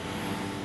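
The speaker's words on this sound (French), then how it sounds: "L'avion qui va les emmener à New York est ce géant désert," Airbus A380 airliner at Roissy airport near Paris, a steady broadband roar of aircraft engine noise, loud and continuous with no voices.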